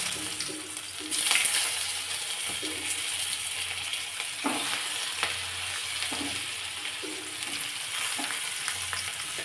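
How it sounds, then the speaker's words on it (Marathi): Boiled eggplants sizzle in hot oil with mustard seeds and curry leaves for stuffed masala brinjal, a steady close frying hiss with occasional crackles and spoon stirs, no voices. "तेल तापलं की त्यामध्ये मोहरी घातली, लगेचच कढीपत्त्याची पानं आणि ही जी उकडून घेतलेली वांगी आहेत ती तेलामध्ये सोडायची."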